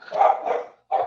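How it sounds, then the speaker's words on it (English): A dog barks close by, two quick loud barks, a short pause, then another bark. "Sorry for my dog barking."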